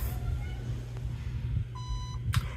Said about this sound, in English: That first beep, now it's in burst mode.